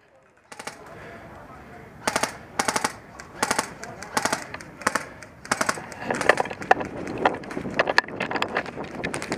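Airsoft guns fire in rapid bursts during a match in a tunnel-like arena, with sharp repeated cracks coming in clusters over wind noise and faint background voices.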